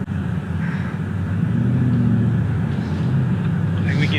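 A custom blue Ford Mustang's engine rumbles while driving, a loud, steady low drone from inside the car that swells slightly as it moves along.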